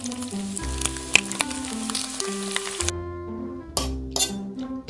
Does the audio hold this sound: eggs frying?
yes